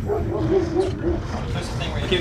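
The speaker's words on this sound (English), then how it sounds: "that's not the dog, that's my dog outside barking" A pet dog barks outside in short repeated yips and bow-wows, somewhat distant, mixed under ongoing conversation from people in the room.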